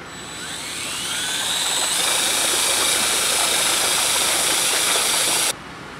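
A small 3D-printed propeller, 3-inch diameter and 4-inch pitch, spins up to about 2,000 RPM with a steady loud whirring drone and a faint rising whine before it cuts off abruptly.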